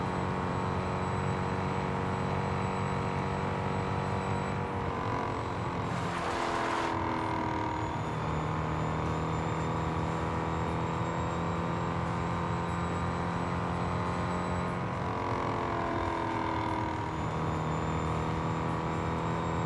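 A Mercedes-Benz SL65 in the racing game Real Racing 3, its engine droning continuously with rising and falling revs and a couple of gear-change dips, loud and steady for the whole stretch.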